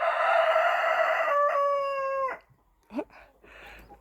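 Chickens and a young rooster, with a loud, strained crow that breaks off, followed by a short squawk and softer clucking nearby.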